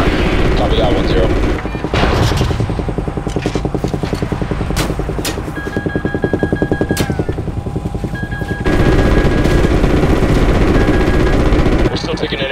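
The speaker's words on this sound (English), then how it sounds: "We're still taking enemy AA fire from behind the smokestacks" Enemy anti-aircraft fire in the video game Call of Duty: Ghosts, coming from behind smokestacks: long stretches of rapid, rattling automatic bursts over a loud, constant roar of aircraft and battle noise.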